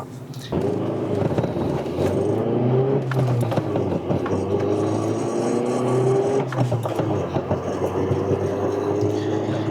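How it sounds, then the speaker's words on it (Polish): A Volkswagen Polo III sedan pulls away from a standstill, its engine note rising through the gears with audible shifts, loud and close as heard from inside the car. "chciałem sobie jeszcze raz tak przyspieszyć od zera"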